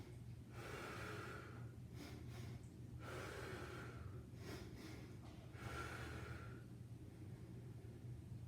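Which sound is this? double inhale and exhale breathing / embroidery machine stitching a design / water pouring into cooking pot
double inhale and exhale breathing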